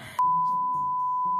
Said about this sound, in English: Go beep.